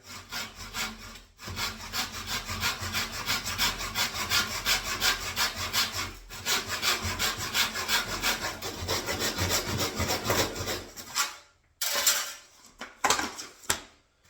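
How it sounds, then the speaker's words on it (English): A hand saw cuts through laminate flooring with steady, close rasping back-and-forth strokes. Two short pauses break the sawing before a few final scraping movements. "Lay the saw on top of the flooring and just start slowly"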